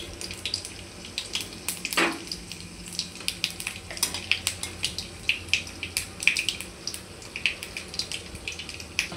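Mustard seeds, then cumin, crackle in hot oil alongside whole garlic cloves. Close, irregular pops and spits come over a soft frying hiss with occasional stirring scrapes, and no one speaks.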